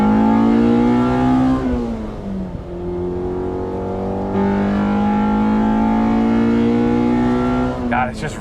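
A B18C engine swapped into a 2000 Honda Civic Si, heard from inside the car while driving, revs hard and climbs through the gears. Its loud, rising drone drops at each shift and climbs again, with someone talking over it.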